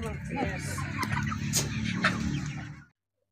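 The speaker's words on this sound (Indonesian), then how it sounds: "Jadi ini bagus nih ayam. Segar ya, sehat-sehat semuanya." A flock of healthy farm chickens clucks and chatters close by, a busy continuous murmur of many birds before cutting off abruptly.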